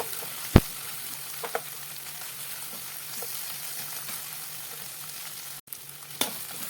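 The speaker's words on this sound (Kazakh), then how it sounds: "Томатымызды салып, осы томатымыздың әбден қуырылғанын күтеміз" Tomato paste fries in a pan for a lavash wrap sauce, a soft steady sizzle with a few sharp clicks of a utensil against the pan.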